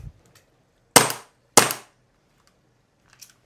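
Two sharp, loud pops about half a second apart from a 3D-printed gas AAP-01 airsoft pistol with an MP5 magazine lower, with faint mechanical clicks before and after and no speech.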